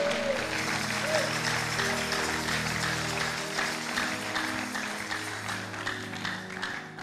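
A church congregation applauding during a French-language sermon, steady clapping lasting several seconds with music underneath, fading slightly toward the end.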